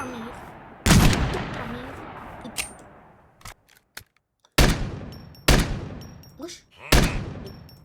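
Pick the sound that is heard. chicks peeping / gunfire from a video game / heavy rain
gunfire from a video game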